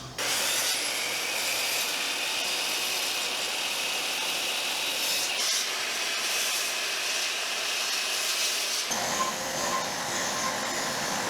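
A table or circular saw cuts scrap wood cutoffs in a workshop, its steady whining rip running continuously and close, with a brief change in tone near the end.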